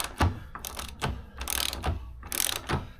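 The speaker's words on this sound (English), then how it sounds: "Now we can loosen the axle." A ratchet clicks in short bursts while loosening a vehicle axle nut, with several close, sharp ratcheting strokes separated by brief pauses and no talking.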